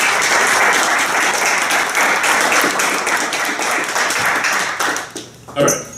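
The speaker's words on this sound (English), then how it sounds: "So, round of applause for these guys." Audience applause at a DEFCON Toronto lockpicking talk, a dense, loud wash of many hands clapping that holds steady for about five seconds, then thins out and fades near the end.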